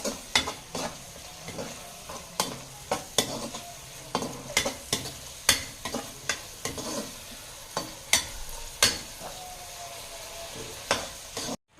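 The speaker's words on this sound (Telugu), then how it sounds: "అందులో వేసేసుకుందాం కడాయిలో. కలిపేద్దాం." A spoon stirring tomato pasta sauce in a kadai, with steady rhythmic scrapes and knocks against the pan roughly once a second over a soft simmering sizzle, close and clear.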